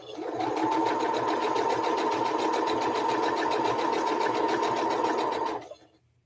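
A sewing machine runs at a steady fast pace stitching quilt blocks for a red, white and blue block swap quilt, a continuous close whirring hum that stops abruptly near the end.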